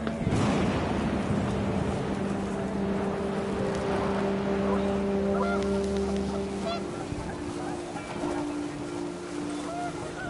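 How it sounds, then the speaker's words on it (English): Panicked geese honk in a video game scene, several loud overlapping calls rising over a windy outdoor backdrop, thinning out after a few seconds as the flock leaves. "The wind picked up, and panicked geese appeared and quickly went."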